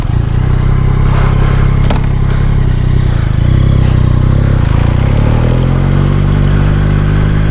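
A 2022 Yamaha MT-09 motorcycle rides along with a steady, loud engine drone and wind rush throughout, the pitch shifting slightly near the end as it changes speed.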